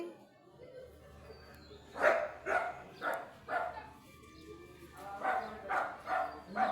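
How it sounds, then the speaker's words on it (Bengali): Several native local dogs bark in repeated bursts, some snarling and yelping as though scuffling, fairly close and moderately loud, with a low hum underneath. "দেশি কুকুরের লাগে ঝগড়া লাগছে।"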